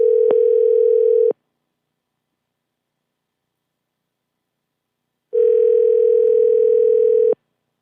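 A ringback tone on a phone call to a Walmart store: two long, steady buzzing rings about four seconds apart, clear and close, with silence between them.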